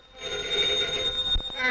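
A telephone rings in a busy newspaper press room at a criminal courts building, a steady electric bell tone running nearly two seconds beneath ambient chatter and movement, fairly close.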